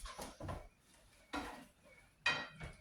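A spoon scrapes and clinks against a bowl while warm pasta salad is tossed, three short bursts of clatter separated by quiet pauses.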